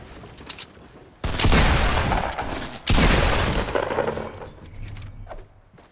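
Shotgun fire in the Fortnite Battle Royale video game: two loud, close blasts about a second and a half apart, each followed by a long, rumbling decay, with quieter game ambience before and after.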